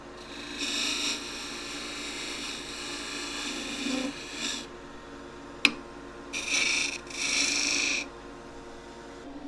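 A wood lathe cuts a chamfer on a turned wooden wig stand, giving a steady rasping scrape that runs in several bursts of a few seconds each, with one sharp click in between and no voices.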